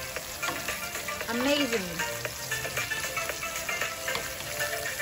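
Shrimp and garlic frying in a pan for shrimp scampi, a steady bright sizzle with crackles and stirring clatter, close up, while a voice speaks briefly over it.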